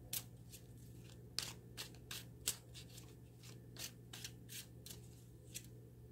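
Tarot cards drawn and shuffled from a deck, a quiet series of short papery snaps and flicks in an irregular rhythm over a low steady hum, close and faint.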